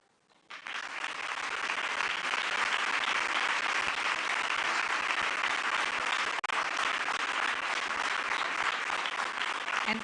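Sustained, dense applause from a large audience at an International Women of Courage award ceremony at the White House, starting abruptly and continuing steadily, loud and unbroken, with no talk over it.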